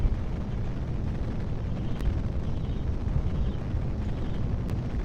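Steady, loud rocket engine roar from a manually flown rocket in Kerbal Space Program, a continuous broadband rumble that holds evenly for the whole stretch with no talk over it.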